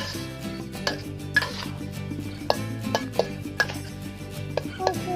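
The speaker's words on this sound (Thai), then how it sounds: "เราก็คนให้เข้ากันเล็กน้อยครับแล้วตั้งไฟให้กะทิเดือดครับ" A spoon stirs coconut milk curry with pork and eggplant in a metal pot, scraping and knocking against the sides in irregular clinks and taps, close up and with no talking.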